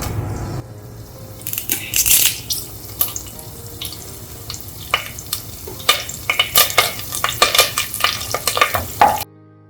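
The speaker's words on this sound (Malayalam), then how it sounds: "ഇതിലിടാനുള്ള വറ്റൽമുളകും കറിവേപ്പിലയും കൂടെ വറുത്തെടുക്കാം." Dried red chillies and curry leaves fry in hot oil with sharp crackles and popping bursts over a bubbling sizzle, close and loud, growing busier before stopping abruptly, with no speech.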